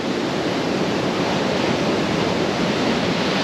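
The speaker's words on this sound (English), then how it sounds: "it's still surfy out there" Surf rolls and breaks steadily on a Dorset shingle beach below Hordle Cliffs, a dense, continuous roar of rough sea with no pauses, loud and close throughout.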